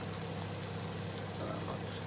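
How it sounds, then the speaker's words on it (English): Soy milk poured into a pot, a soft continuous liquid stream splashing steadily at a low level with no speech. "pour a bit of soy milk in there."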